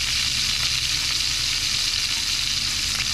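A mahi-mahi fillet sizzles in hot oil in a pan, a steady close frying hiss with faint crackles running throughout.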